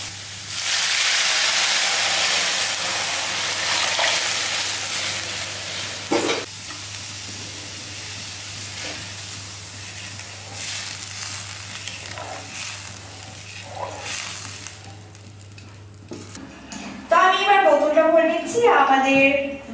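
Dal (lentils) tipped into a hot pan sizzle with a loud, steady hiss that holds for about sixteen seconds, with a few stirring knocks, then cuts out as a voice starts talking.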